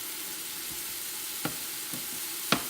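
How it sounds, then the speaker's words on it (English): Sausage cooks in a jambalaya pot with a steady close sizzle and a few soft knocks of a spoon against the pot, no voices. "I'm going to add my sausage."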